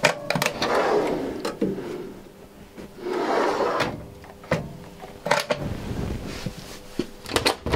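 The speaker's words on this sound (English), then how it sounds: "And there is soft closing also on this drawer." A kitchen drawer with a soft-close mechanism in a 2021 Dethleffs Pulse Classic T 7051 DBM motorhome is pushed shut, giving several soft sliding rumbles and light knocks at close range, with no talk.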